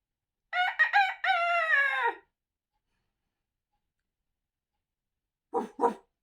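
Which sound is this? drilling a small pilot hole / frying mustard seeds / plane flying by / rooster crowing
rooster crowing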